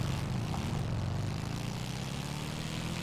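A motorcycle taking off in the video game INSRP, giving a constant, loud, droning engine roar with a steady low hum and no pauses.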